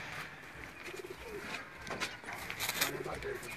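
Sialkot breeder pigeons coo softly in repeated low, throaty phrases, faint and close, over quiet background noise with scattered light knocks.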